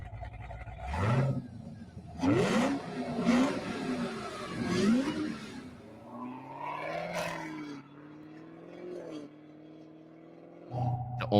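Custom Chevrolet Camaro soft-top engine revving in several loud, rising bursts before settling into a steady, throaty idle, close and dominant with no talk.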